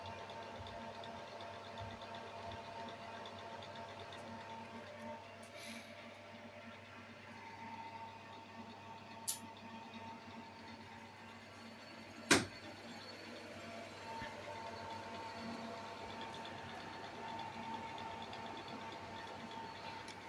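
A combi steamer oven's cooling fan hums as a low, steady drone that continues throughout, faint but constant, broken only by two sharp clicks.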